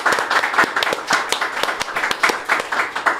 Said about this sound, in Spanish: aplausos porque nos salió bien